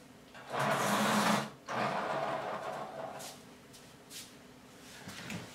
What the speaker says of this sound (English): And I broke the tip, so I gotta go sharpen it again.